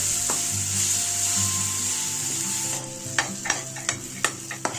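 Softened tomato sizzles steadily in a pan, then a spoon stirs it with a series of clear, sharp taps and scrapes against the metal.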